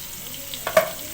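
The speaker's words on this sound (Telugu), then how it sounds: "పసుపు ఉప్పు యాడ్ చేసి ఫ్రై చేయడం వల్ల చక్కగా ఫ్రై అయ్యాయి." Sliced onions frying in a pan with turmeric and salt, a soft sizzle with a brief stir and a scrape near the end, short and close with no speech.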